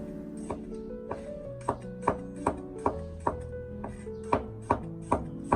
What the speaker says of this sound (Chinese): 然后再剁成稍微细一点的蒜末